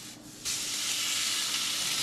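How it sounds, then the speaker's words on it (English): A sudden loud sizzle of tripletail fish hitting hot olive oil in a pan over medium-high heat, a steady bright crackling hiss that holds on without pause. "Hear that sizzle."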